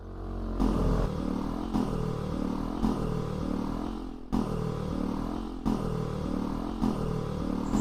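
A Honda XRM 125 Fi motorcycle engine with a rapid engine knocking fault idles steadily close by, a continuous mechanical clatter with faint periodic pulses and no talk over it.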